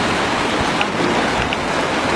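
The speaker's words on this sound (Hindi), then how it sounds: "ये नहर बह रही है यहाँ से खालिस पानी की।" Meltwater canal rushing down from the mountains at Naran Kaghan, a steady loud broadband rush of flowing water with some wind noise on the microphone.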